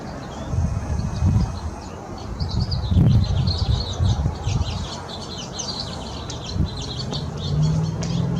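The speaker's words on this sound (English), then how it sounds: "sound effects in the background that picks up the little sparrows, little songbirds" Sparrows and other small songbirds chirp and twitter in quick bursts over a low, rumbling background of wind and hum, fairly distant, in North San Diego.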